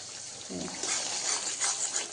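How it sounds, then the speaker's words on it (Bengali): Water is poured into a pan of fish curry masala for pabda macher jhal, a short close splashing, gurgling rush that starts after a brief pause and runs to the end. "এবার আমি জল দেব"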